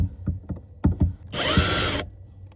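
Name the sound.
power drill free spinning without biting into wood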